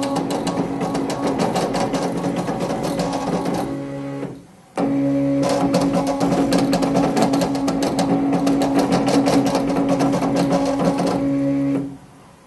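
A T8 embroidery machine stitches a design on fabric with a fast, steady mechanical chatter and a whirring hum. It stops briefly near the middle, then starts again and runs until it winds down at the end.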